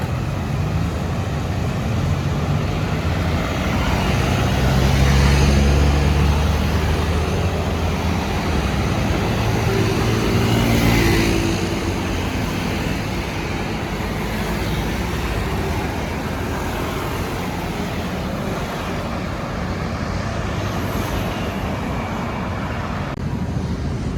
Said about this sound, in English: See all the scooters scooting by.